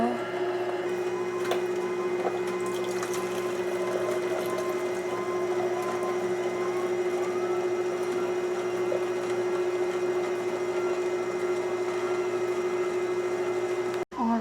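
A steady mechanical motor hum with a constant low drone from a Hurom H400 slow juicer making green juice, running continuously and fairly close, then cutting off abruptly near the end.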